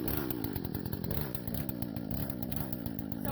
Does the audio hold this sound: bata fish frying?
no